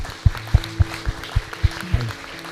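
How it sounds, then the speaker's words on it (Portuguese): A church congregation claps for the Lord in about eight slow, evenly spaced beats, fairly close, over a faint sustained organ or keyboard tone. "Vamos dar uma salva de palmas para o Senhor."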